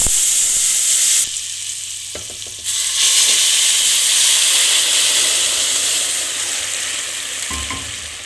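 Sugar syrup poured into roasted semolina for date halwa sets off a loud, steady sizzle and hiss, briefly dropping then surging again, with faint stirring clinks near the end.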